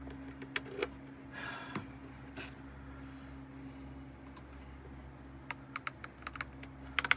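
Sparse keystrokes on a computer keyboard attached to a 2013 cylindrical Mac Pro, scattered clicks near the start and a quicker cluster of taps toward the end, over a steady low machine hum.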